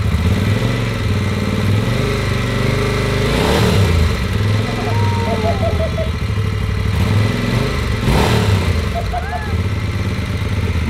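A superbike from a large collection starts up and idles with a steady mid-pitched engine drone, rising in two short revving surges, while people talk nearby over the running motor.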